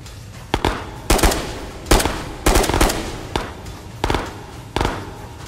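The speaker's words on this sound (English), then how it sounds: "Shots above." Gunfire from an upper floor in the VR shooter Ghosts of Tabor: seven sharp reports spaced irregularly over several seconds, some single cracks and some short doubled bursts, each with a brief ringing tail, fairly close and loud with no talking.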